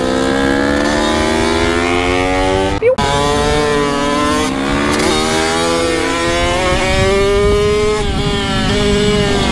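A Kawasaki KX65 dirt bike with new wheels and tires screams loudly and continuously while being ridden, its pitch climbing and falling through gear changes, with one sharp break as it shifts.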